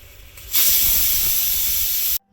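A pressure cooker of vegetable broccoli pulao lets out a loud, steady hiss of escaping steam that starts abruptly after a faint lead-in, holds for about one and a half seconds, and cuts off sharply.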